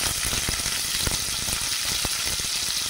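Chopped onion hisses and crackles in hot oil in a pan of spluttering garlic, cumin, mustard seeds and curry leaves, a dense steady sizzle with sharp pops, up close and without talk.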